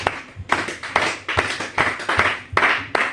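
A church congregation claps in a steady, fast rhythm, roughly two to three sharp claps per second, loud and close, with no talking over it.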